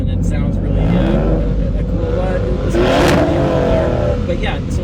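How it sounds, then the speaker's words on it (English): A 2024 Maserati GranTurismo Trofeo 75th Anniversary in Corsa mode with exhaust valves open roars close by, a loud sustained engine drone that swells in pitch near the middle, with talk mixed in over it. "When you put it in Corsa mode, it does open up the valves, and it sounds really"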